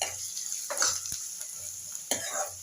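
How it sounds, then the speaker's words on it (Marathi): Finely chopped onion goes into hot garlic-flavoured oil in a pan and is stirred. A steady close sizzle is broken by two or three scraping stirs of a spoon. "आणि मग बारीक कापलेला कांदा यामध्ये घालायचा आहे"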